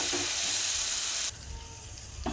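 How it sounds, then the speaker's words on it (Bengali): Tomato paste sizzles loudly in a frying spice mix, a dense close hiss that drops suddenly to a quieter bubbling fry, with a stir scrape at the end. "এবার দিয়ে দিব টমেটো বাটা"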